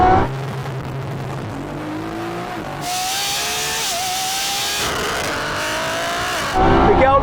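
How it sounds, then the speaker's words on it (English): A tuned BMW M140i, Audi S3 and Lamborghini Revuelto launch in a drag race, loud engines revving and shifting through gears with rising and falling pitch. A sharp jump in intensity midway follows, with engine roar swelling again near the end. "Your cars may be fast, but they don't sound anything like this"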